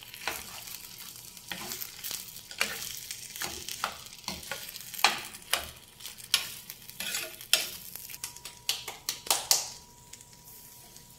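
Potatoes a la mexicana, salted, cooking in a pan on the stove: a steady sizzle under repeated scraping and tapping strokes of a stirring utensil, close and moderately loud, with no talking.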